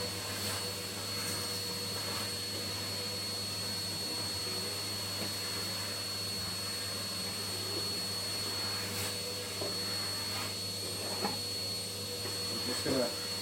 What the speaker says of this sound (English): Hoover around.